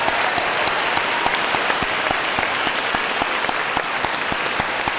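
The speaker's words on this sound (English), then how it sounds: "I'd like to have a round of applause for those alumni who serve in this particular way." Steady, dense applause from a large school assembly honouring alumni, a continuous wash of many clapping hands with scattered crisp claps nearby.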